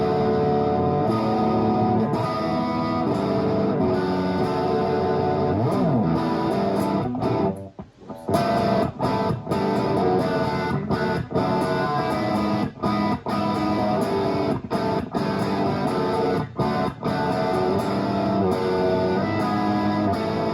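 A Gibson Les Paul played with heavy distortion through a Carr El Moto amp and Marshall cab rings out in dense, sustained chords, loud and close, with a brief stop around the middle before the riffing resumes.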